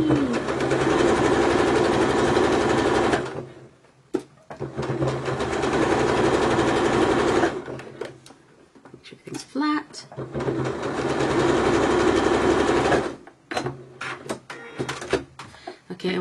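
A sewing machine bastes fabric in long, loud, steady runs of rapid stitching, broken by short pauses with clicks and handling noises, heard close up; a person also talks during the clip.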